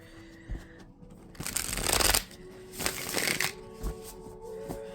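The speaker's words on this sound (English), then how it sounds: "To be able to shuffle in this manner." A tarot card deck is riffled and shuffled by hand in a quiet room: a sustained crisp flutter of cards, then several shorter rustling bursts, close and alone.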